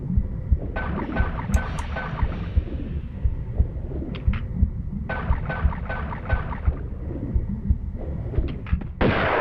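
Gunshots ring out in the underwater-themed 40 Fathoms level of Tomb Raider 2, a rapid series of sharp pistol-like reports in two bursts over a rumbling, watery ambient game backdrop, ending with a louder hiss.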